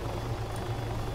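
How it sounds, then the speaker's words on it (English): Helicopter in the military video game Arma 3, a steady low rotor and engine drone with a rhythmic throb, continuous and fairly close, no voices. "All I can hear is the sound of a helicopter."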